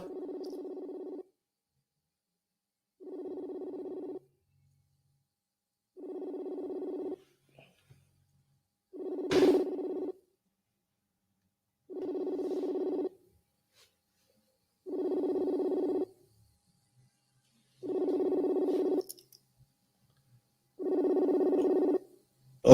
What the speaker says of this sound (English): Can you hear the phone ring, Bella?